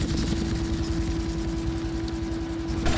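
A helicopter in GTA Vice City sends out a continuous loud rotor whir with a steady engine tone, close and dominant, and a brief rise near the end.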